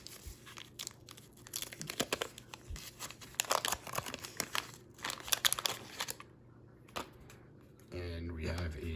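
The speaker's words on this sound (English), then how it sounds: "So we'll open the Fleer packs." Packs of 1985 Fleer baseball cards being torn open, with close, irregular crinkling and tearing of wax wrappers and shuffling cards, followed by a brief spoken voice at the end.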